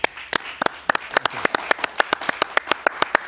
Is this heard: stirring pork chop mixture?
no